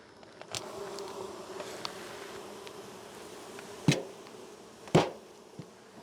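Honeybees buzzing inside a large hive during a summer inspection, a continuous close hum with a few sharp knocks and clunks from handling the hive.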